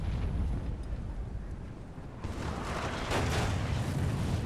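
Artillery fire in the Napoleon Total War battle game, a steady rumbling roar of distant cannon booms that swells louder halfway through, with no voices.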